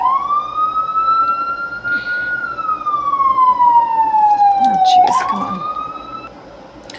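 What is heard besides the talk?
emergency vehicle siren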